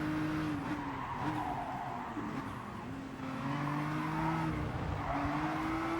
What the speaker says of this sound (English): Hitting the curb there.